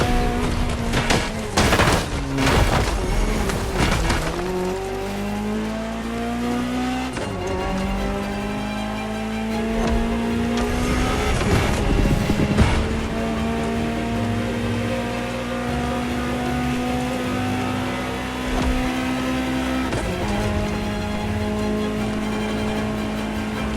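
A Ferrari GTO, a special version of the 308, drives in the racing game The Crew Motorfest. Its engine note climbs and drops repeatedly through the gears, with bursts of tire squeal and loud, close revving.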